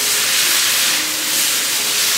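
Loud, continuous steam hiss rises from a hot, smoky pan of Tuscan chicken, a dense, even sizzle with no break and no voices over it.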